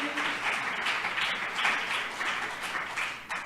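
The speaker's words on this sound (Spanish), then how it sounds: "Dele fuerte el aplauso al Señor." A church congregation claps and applauds steadily for about three seconds, a dense, moderately loud wash of hand claps with slight swells, with no clear voices over it.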